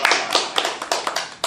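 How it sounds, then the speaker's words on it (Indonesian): About eight quick claps ring out over a second and a half, sharp and close, in an informal comedy radio setting. "tepuk tangan buat kamu"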